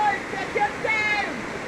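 Rushing water of a river and waterfall at Ugly River in St. Mary makes a steady broadband roar, with people talking faintly over it.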